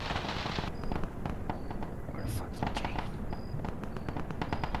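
Mortar rounds fire and explode in a military video game as a dense, continuous barrage of rapid blasts and cracks, with voices faintly in the mix.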